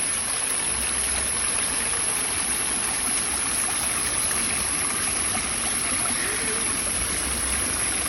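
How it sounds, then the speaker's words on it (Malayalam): Waterfall and stream water rush in a steady, unbroken roar, close and continuous with no voices. "അങ്ങനെതാ ഞങ്ങൾ വെള്ളച്ചാട്ടത്തിൻ്റെ അടുത്തെത്തി"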